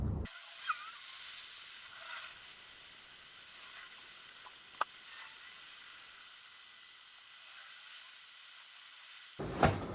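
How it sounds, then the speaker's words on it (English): A steam machine runs steadily for bending guitar wood, a soft continuous hiss at moderate distance with a couple of faint clicks and a louder knock right at the end. "So steam machine is switched on, we'll wait for that to inflate and then we'll get back to it."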